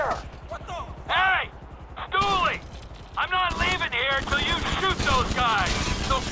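Gunfire from GTA 5 on PS5 mixes rapid bursts and single shots with a shouting voice and tense game sounds, fairly loud and close.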